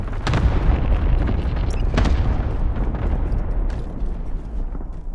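Airstrike explosions in Call of Duty Warzone, a cluster of heavy booming blasts landing close together, with sharp bursts near the start and around the two-second mark over a constant rumbling low roar.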